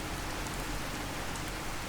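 Steady rain at an outdoor settlement camp in the PC game Fallout 4, an even, dense hiss of falling drops with no talk over it.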